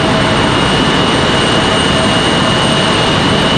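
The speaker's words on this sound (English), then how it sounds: "Absolutely fantastic departure for that Delta A220." A Delta A220 airliner departs from a stormy Raleigh-Durham airport runway with a loud, continuous jet roar and thin steady whine tones, with no talk.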